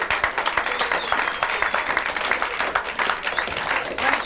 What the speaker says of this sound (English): Let's have a big round of applause for John.